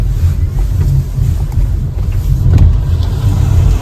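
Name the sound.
heavy car traffic in winter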